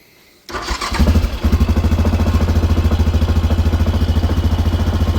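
A 2014 Yamaha Grizzly 700 ATV cranks briefly and fires up, then settles into a loud, close, evenly pulsing idle with rapid regular thumps.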